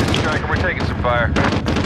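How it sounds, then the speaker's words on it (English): Gunfire in a Free For All match of a military shooter set at Al-Raab Airbase, bursts crackling under radio chatter and game voices throughout. "Striker, we're taking some fire."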